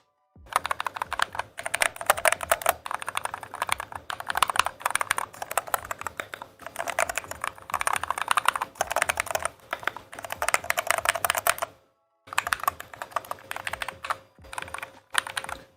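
Typing on a Glorious GMMK Pro custom mechanical keyboard, fast continuous keystrokes clacking up close in dense bursts with a brief pause near the end before resuming.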